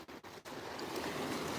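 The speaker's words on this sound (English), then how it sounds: "coming out here to Seattle is very nice just to hear the waves" Ocean waves wash ashore near Seattle, a faint, continuous surf hiss with brief dips at the start and wind-like texture.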